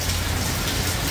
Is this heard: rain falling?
yes